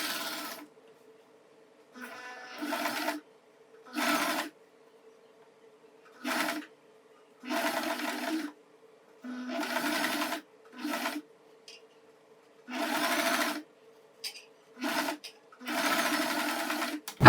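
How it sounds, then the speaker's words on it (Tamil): A sewing machine stitches pleated fabric, including a back stitch, in short close bursts of rapid mechanical whirring separated by brief quiet pauses, with no talking. "அடுத்தது நீடில் இன் பண்ணிட்டு ஒரு பேக் ஸ்டிச் நம்ம போட்டுக்கிட்டு ஸ்டிச் பண்ணிக்கலாம்."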